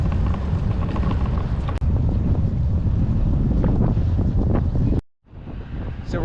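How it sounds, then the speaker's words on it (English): Strong wind buffets the microphone on a blustery day during a cross-Canada bicycle ride, a constant loud roar with a brief gap near the end before the gusts return. "It's windy."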